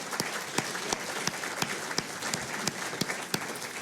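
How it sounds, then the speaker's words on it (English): Audience applause at a conference opening dinner, a fairly close, steady patter of many hands with a few sharper individual claps standing out, continuing evenly for a few seconds. "Could we give a round of applause to Matthew for those thoughtful remarks?"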